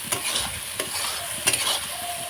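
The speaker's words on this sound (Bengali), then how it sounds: "লঙ্কাটা একটু কালারে নিয়ে ভালো করে মশলাটাকে কষাবো অনেকক্ষণ ধরে কষানো করে" Chili and spice masala being sautéed for chicken cooked over a clay stove, giving a steady sizzle with sharp stirring scrapes and clacks near the start, middle and later on, close and without talk.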